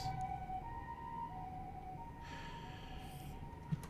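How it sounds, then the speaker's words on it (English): An ambulance siren wails outside, its steady two-tone pitch sliding up and down over about four seconds at a moderate distance, with a brief knock near the end and no voices. "And another ambulance."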